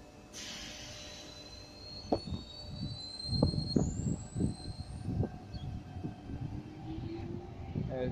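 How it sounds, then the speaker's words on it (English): A Sydney Tangara electric suburban train, sets T35 and T52, pulls out of Mount Colah station with rising motor whine, rhythmic wheel clatter over rail joints and a brief horn-like tone, heard from the platform without speech. "Tangara now departing."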